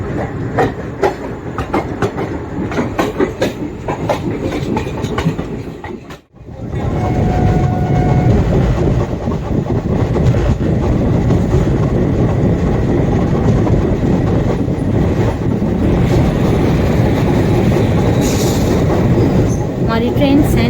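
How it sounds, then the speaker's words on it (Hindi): The 13072 Jamalpur-Howrah Super Express runs through Sainthia Junction without stopping, a loud close rumble with clickety-clack wheel beats and a brief dip before a steady roar of carriages takes over. "हमारी ट्रेन सैंतिया जंक्शन स्किप कर रही है।"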